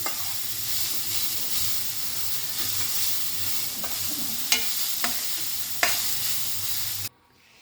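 A spoon of sesame oil roasts ingredients for an amla and moringa leaf powder in a pan, giving a steady close sizzle broken by a few sharp clicks of stirring before it cuts to silence at the end.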